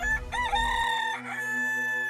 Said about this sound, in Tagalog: tilaok ng tandang